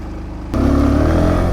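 A 2022 SYM VF 125 motorcycle starts to ride off: a sudden jump from quiet idle into a loud, steady engine drone as it pulls away, close and continuous, with no talking.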